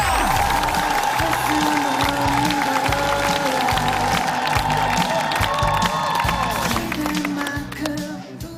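Studio audience at a Korean TV talent show bursts into loud, sustained applause and cheering, with whoops over the dense clapping, welcoming a challenger in a table tennis segment; the applause holds steady for several seconds before tapering.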